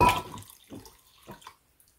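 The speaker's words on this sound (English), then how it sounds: "I'm going to have to add a little bit of cool water to that." Cool tap water splashes into a basin of hot water used for washing wool locks, arriving in a loud opening gush followed by a few shorter, fainter pours with no one talking.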